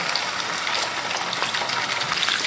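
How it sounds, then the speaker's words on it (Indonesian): Skipjack tuna pieces frying in hot oil give a steady, dense crackling sizzle that stays even throughout, with no talk. "Oke, minyaknya sudah panas ya. Sekarang saya masukkan ikan goreng."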